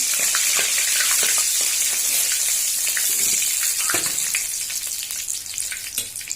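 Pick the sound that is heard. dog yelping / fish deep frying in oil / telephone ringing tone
fish deep frying in oil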